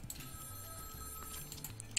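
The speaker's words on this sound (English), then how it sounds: "The phone ringing straight away." A telephone rings in the Cake Mania: Lights, Camera, Action! bakery video game, a steady electronic tone over game music and background hum.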